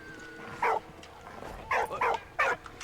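A dog in the World War I game Valiant Hearts gives four short, sharp barks, one alone and then three in a quick cluster, close and clear over a quiet background.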